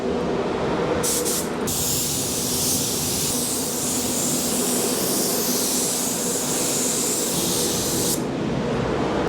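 A spray gun applies clear coat over a stone chip repair on a car panel, a loud, continuous close hiss lasting several seconds, with a short burst or two at the start.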